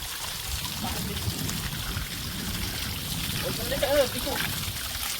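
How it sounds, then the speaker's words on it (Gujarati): Water trickles and flows out of the ground in the Gir forest of Gujarat, a steady close-up rushing wash with a brief louder splash near the end. "અને આ કાયદેસર પાણી નીકળે છે"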